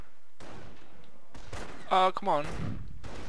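Gunfire rings out in the WWII strategy game Company of Heroes, a few sharp distant shots and thuds scattered over a low battlefield hum, with a voice speaking briefly in the middle.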